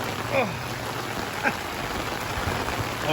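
Rain pours in Chiang Mai at the start of the rainy season, a steady dense hiss with scattered patters close by, while a man makes brief exclamations over it.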